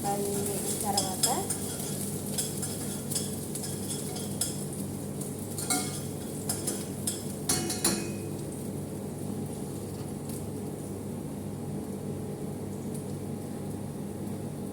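Onions frying in a pan with a steady sizzle while a utensil scrapes and stirs in bursts of clinks and scuffs, close by, with no voices.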